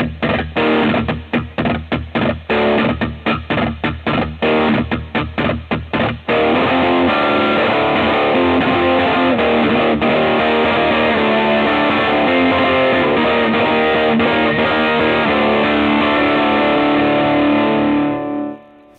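Loud, heavily distorted electric guitar played with a guitar triller plays fast staccato chugs, then holds a long sustained power chord that rings out before cutting off.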